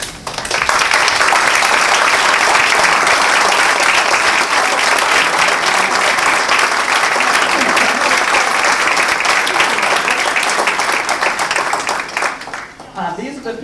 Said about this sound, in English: to please stand up and to get a nice round of applause